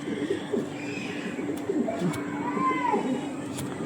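A Kalanka pigeon coos in soft, rolling murmurs under background bustle, with a few sharp clicks and a faint rising whistle partway through.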